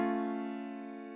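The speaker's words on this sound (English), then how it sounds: "The augmented chord, though, sounds like this." An augmented chord rings out sustained and steady, its tones held together and slowly fading over a second or so, alone with no talking.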